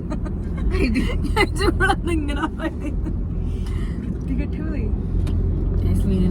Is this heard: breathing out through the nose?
no